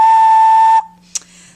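A small handmade clay penguin whistle is blown once as a test, giving a loud, steady, pure tone for under a second, then a short faint click in near silence.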